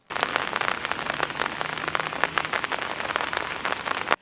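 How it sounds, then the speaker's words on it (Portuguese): Heavy rain pours down in a municipal city park in the early evening, a dense, continuous hiss of drops spattering on surfaces, steady and close throughout with no voices. "As primeiras cenas da chuva foram feitas no Parque Municipal Antônio Molinari por volta das 7 da noite"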